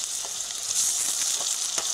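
Tomato paste sizzling and frying in oil with onion, ginger and garlic for a tengra fish curry, a steady close hiss with faint stirring clicks throughout, no talking.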